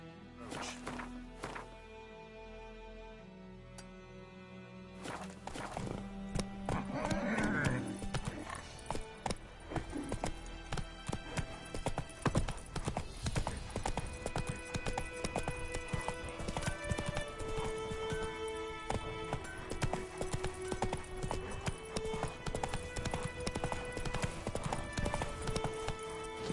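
Roach, the horse in The Witcher 3, clip-clops along in a steady hoofbeat rhythm with an occasional snort, close and fairly loud over layered game ambience and music.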